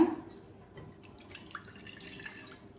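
Milk pours into a mixer jar of ground almonds while badam milk is being made, a short, close splashing and trickling stream that fades toward the end.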